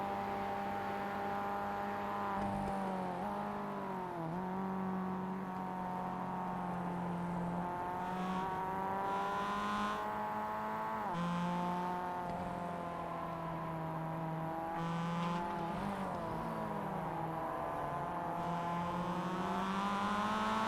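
Mazda MX-5 race cars scream around Summit Point in a steady, continuous engine drone, their revs repeatedly dipping and climbing through gear changes as the cars pass close by.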